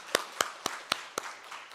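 Members of a congregation at a dawn church service clap to bless the choir, five sharp evenly spaced claps or taps sounding fairly quiet and alone.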